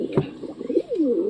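Giribaz pigeons cooing close by, a soft throaty coo rising and falling in a smooth gliding call over a quiet background.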